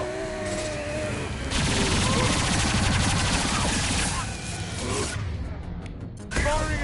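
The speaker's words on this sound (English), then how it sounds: "Firing an impact shot!" A heavy gunfire salvo from an impact shot in Mass Effect 2 Legendary Edition, a loud sustained burst of rapid shots with whooshing effects that breaks off, then resumes briefly at the end.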